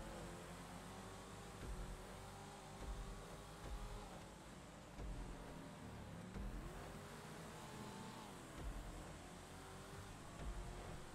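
A Spectre Custom car driving in GTA 5, a steady engine drone with gentle rises and falls in revs, close and continuous throughout, with no talking.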